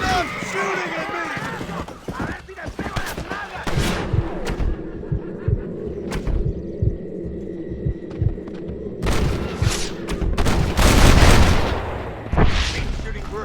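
Gunfire crackles through a Red Dead Redemption shootout, scattered shots and booms with hoofbeats, dense and layered under characters shouting and talking.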